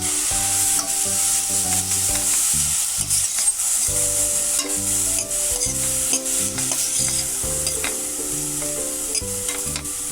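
Finely cut cabbage stirred into a pot of lemon coriander soup, a steady sizzle under repeated scraping stirs close by, with no talking.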